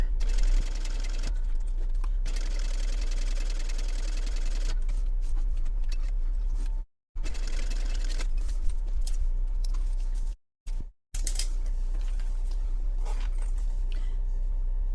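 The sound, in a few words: sewing machine stitching over double stick tape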